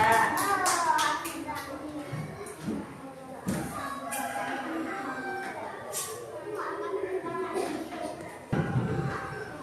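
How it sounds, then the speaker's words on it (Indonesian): Students in a classroom clapping for a group after its presentation, uneven bursts of clapping with pauses between, mixed with shuffling, thumps and children's voices nearby. "Beri tepuk tangan untuk kelompok C."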